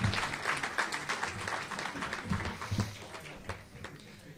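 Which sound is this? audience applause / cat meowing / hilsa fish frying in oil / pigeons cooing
audience applause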